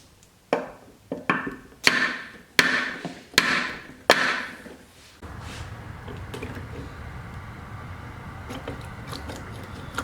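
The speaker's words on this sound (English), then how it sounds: "A few good taps of the hammer to loosen it up should get it right off" Six sharp hammer taps on a YZ250 motorcycle cylinder stuck on with liquid gasket, struck in an uneven series a second or less apart, followed by a softer low scraping rattle as the part loosens.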